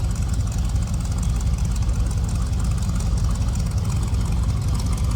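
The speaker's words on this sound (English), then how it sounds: "you can hear it run. 400 sounds good. Nice throaty exhaust in this one." A 1963 Chevrolet Impala SS with a 400 engine idles steadily, its throaty exhaust giving a deep, continuous low rumble at close range with no talking.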